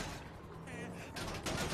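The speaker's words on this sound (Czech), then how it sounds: "Mě střílí. Já jsem nic neudělal, už po mě střílí." Gunfire aimed at the player in GTA 5 comes as a couple of brief, muffled bursts near the end, partly buried under a voice talking.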